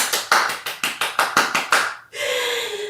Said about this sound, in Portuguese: E quem gostou da história pode bater palmas.